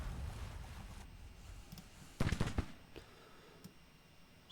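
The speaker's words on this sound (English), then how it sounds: "First rifle shots of the battle." Rifle shots open a battle in a Civil War strategy video game: a quiet, windy backdrop broken by a tight cluster of sharp cracks midway and a few fainter scattered pops afterward.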